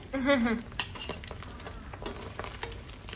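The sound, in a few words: battered shrimp heads deep frying in oil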